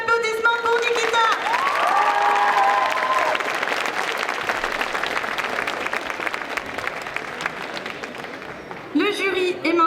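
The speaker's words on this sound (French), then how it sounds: "Je veux un tonnerre d'applaudissements pour Nikita." A cosplay contest audience at a Japanese pop culture show in Troyes breaks into loud, sustained applause and cheering, with shouts and a voice heard at the start and end over the clapping.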